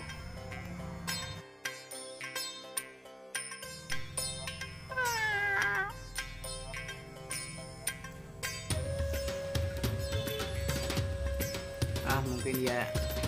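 An old, angry cat yowls and meows in strained, wavering cries when teased, several calls spread across the stretch over steady background clatter and ambient noise.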